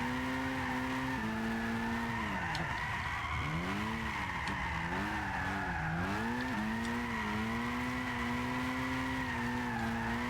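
RE Amemiya RX-7 drifting in Gran Turismo 6, its rotary engine wailing steadily with pitch dips and rises as it slides, over constant tire squeal throughout, loud and continuous with no talk.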